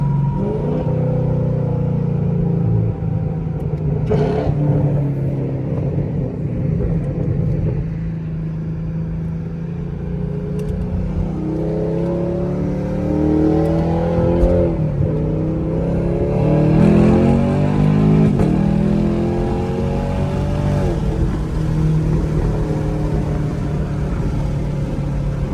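V8 of a straight-piped 2017 Camaro SS at night, heard from inside the car, rumbling deep and loud with repeated rising revs and gear pulls, no talking.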